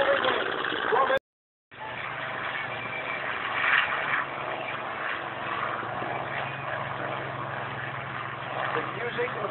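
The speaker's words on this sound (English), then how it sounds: "There's the HELLCAT on the left." Grumman Hellcat fighter plane flying past at an air show at Point Mugu, Ventura, California: a steady droning propeller roar with one brief dropout, heard at a distance under speech and crowd noise.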